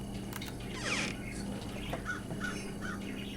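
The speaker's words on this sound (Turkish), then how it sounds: "Karga anahtarı gösterir biliyoruz." A crow caws a few times in the Secret Neighbor video game, faint and short calls over a steady background hum.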